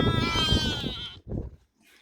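A village goat bleats long and loud from close by with a wavering, nasal cry, then gives a shorter second bleat before it falls quiet.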